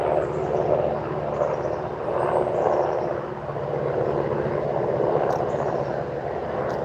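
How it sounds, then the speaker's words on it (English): A helicopter drones steadily overhead, a continuous rumbling rotor and engine noise that swells slightly and fades without stopping. "Oh, it's a helicopter."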